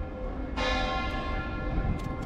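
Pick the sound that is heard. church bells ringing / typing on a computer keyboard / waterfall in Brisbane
church bells ringing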